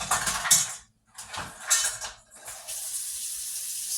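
Water runs from a kitchen tap into a bowl set to soak, a steady hissing splash that stops twice and starts again, close at hand with no speech.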